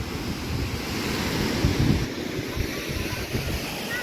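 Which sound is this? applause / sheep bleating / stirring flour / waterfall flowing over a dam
waterfall flowing over a dam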